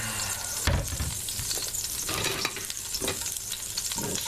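Liver and onions fry in avocado oil in a pan, giving a steady close sizzle broken by a few louder bursts of crackle and stirring. Nobody speaks.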